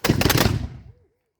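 A line of reenactors at Ticonderoga firing their muskets together as one volley, a single loud, crackling blast that rolls out briefly and fades within about a second.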